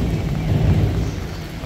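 Rain falls on a city street near Shin Okubo station in Tokyo, a continuous heavy hiss over a deep, rolling low rumble, loud and close. No one speaks.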